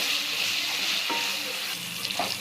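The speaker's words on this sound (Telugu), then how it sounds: "ఇవన్నీ కూడా గోల్డెన్ కలర్ వచ్చే వరకు వేపుకుందాం." Chicken pieces fry in a non-stick pan with a loud, continuous close-up sizzle and crackle, with a few faint scraping stirs and no voices.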